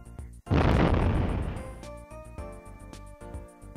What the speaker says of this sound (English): You're not supposed to use cannons on the track.